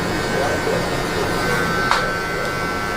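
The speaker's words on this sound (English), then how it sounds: "I take my clipper and I open it all the way" Electric hair clippers buzz steadily during a fade haircut, a close continuous hum with a brief scrape partway through. A voice talks over the clipper noise.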